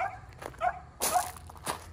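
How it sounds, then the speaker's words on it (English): A dog gives a few short barks and yips, fairly close and clear, outdoors near an old 1960 International Harvester Cub Lo Boy tractor. "My dog is barking, by the way."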